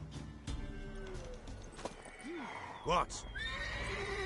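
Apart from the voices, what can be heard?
horse (mare) neighing in The Witcher 3 video game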